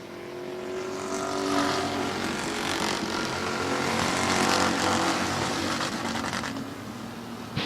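Race cars lap an oval at Midvale Speedway, a continuous loud engine roar that swells and fades slightly as the cars pass, with no voices.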